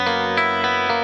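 Electric guitar with an 80s-style tone and stereo reverb, sustained chords ringing out with a few fresh strums and a wash of reverb tail, played steadily alone with no talk.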